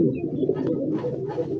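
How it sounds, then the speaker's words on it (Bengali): Large Rajgolla pigeons cooing at a market stall, soft low repeated coos over a constant murmur, with a couple of faint higher chirps early on. "জোড়া কবুতর, রাজগোল্লা কবুতর, হিউজ সাইজের, অনেক বড় সাইজের কবুতর"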